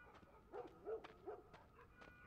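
A dog barks repeatedly in the video game The Last of Us, several short, moderately distant woofs spaced roughly half a second apart over quiet background ambience.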